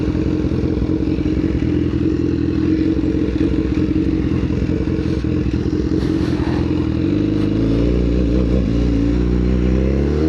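A BMW S1000R motorcycle engine running steadily up close, a dense loud rumble with mechanical clatter, shifting pitch near the end as the revs change, with no talking.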